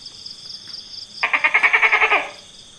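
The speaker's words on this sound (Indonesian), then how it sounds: "Cicak bunyinya seperti ini." A rapid series of about nine sharp chirps from a small house gecko (cicak), evenly spaced and fairly close, following a faint high-pitched tone.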